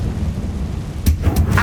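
Confringo explosive spell in Hogwarts Legacy, a loud, low, booming rumble that swells with two quick fiery bursts near the end.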